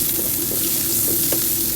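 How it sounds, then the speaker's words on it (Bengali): Steady hiss and crackle of fish frying in hot oil, continuous and close, with a few faint clinks of a utensil. "একে একে মাছগুলো তো সব দিয়ে দেবো, দিয়ে মাছটা ভেজে নেব"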